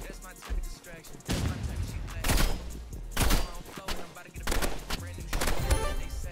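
Rapid shotgun blasts in the video game Rivals, loud cracking bursts scattered through a busy mix of game sounds, with a voice talking underneath.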